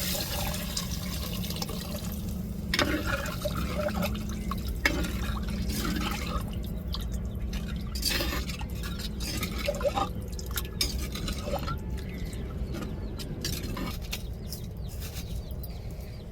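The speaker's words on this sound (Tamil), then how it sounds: "இப்போ நம்ம கரைச்சி வச்சுருக்கிற புளித்தண்ணியே சேர்த்துக்கிறோம்" Tamarind water is poured into a pan of fish curry, dripping and splashing steadily over a constant low cooking hum, with occasional clinks and no talk.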